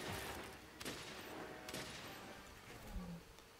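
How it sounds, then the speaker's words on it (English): Shotgun-style spread ammo fire in Monster Hunter World, heard as a few quiet, sharp bursts spaced through a low, hissing background. "Spread ammo are shotguns."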